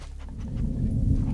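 A dog pants in quick, breathy rhythm, close up, over a low steady rumble that swells slightly toward the end, in the video game The Last of Us Part II.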